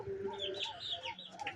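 Brahma and broiler chickens in a home coop at night give soft, overlapping clucks and short calls, close and fairly quiet, with no talking.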